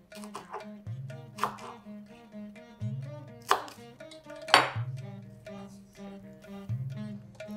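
A knife chops green chillies on a board with crisp, close knocks, an irregular run of cuts over roughly seven seconds, with no talking.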